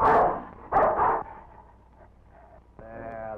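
Rin Tin Tin, a dog in an old Western film, gives a few loud barks and yips close by, with short gaps between them and a whimpering tone at the end.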